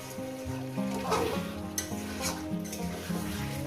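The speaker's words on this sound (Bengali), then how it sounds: "আমি কত সুন্দর করে চিকেনটাকে কষিয়ে নিচ্ছি" Chicken sautéed in a pan over medium gas sizzles continuously while a utensil scrapes and stirs it in uneven strokes, close and clear, with no voices.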